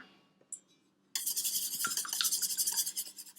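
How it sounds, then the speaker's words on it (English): Eggs and milk for French toast are whisked briskly in a bowl, a close, rapid scraping rattle that starts after a moment of near silence and keeps up a fast, uneven rhythm to the end. "Whisk that up."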